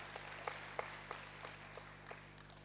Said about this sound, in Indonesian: Berikan tepuk tangan hebat bagi Tuhan.